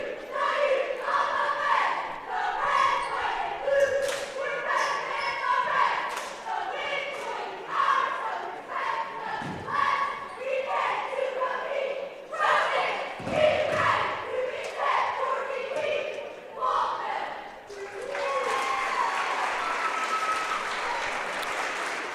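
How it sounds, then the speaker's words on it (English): High school cheerleaders from Waltonville perform their opening cheer in a gym before a boys' basketball game: rhythmic shouted chants and claps with occasional thumps, crowd noise throughout, ending in a louder burst of cheering. "we'll let you see the Waltonville cheerleaders do their opening cheer"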